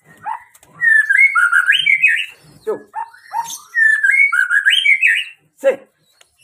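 A murai trotol magpie-robin songbird sings loud and close, with bright rising whistled phrases broken by short chirps and squawky notes, repeating its phrase twice with brief pauses between.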